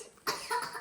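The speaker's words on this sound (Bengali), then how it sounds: "কাশি লেগে গেল।" A single short cough, close and fairly quiet, standing alone after a brief pause.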